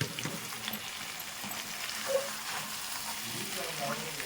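Country chicken stir-frying in a pan, a soft steady sizzle with occasional scraping stirs, close and moderately quiet throughout.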